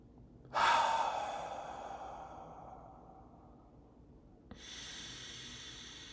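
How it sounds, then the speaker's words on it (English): A person takes a slow, deep breath in with a strong airy rush that fades out, followed after a pause by the start of another long hissing breath, close and alone during a breathing exercise. "A couple deep breaths."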